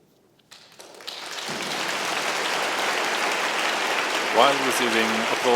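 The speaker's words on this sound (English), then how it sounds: "While receiving applause for their achievement, they are also posing for a photograph." Applause at a doctoral graduation ceremony swells after a quiet start into sustained, even clapping from a large audience, with a voice rising briefly over it near the end.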